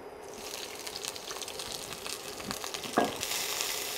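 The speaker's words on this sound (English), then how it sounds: "I will heat up the saucepan with 1 tablespoon of oil. So I'm going to saute the bean sprouts." Bean sprouts sautéing in a tablespoon of hot oil in a saucepan, giving a steady, close sizzle with soft stirring scrapes and one brief louder clink near the end, no talking.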